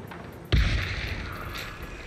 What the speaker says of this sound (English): It is a really bassy explosion.